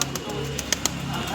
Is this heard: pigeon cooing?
yes